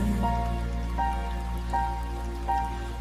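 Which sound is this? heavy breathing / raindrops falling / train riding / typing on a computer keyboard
raindrops falling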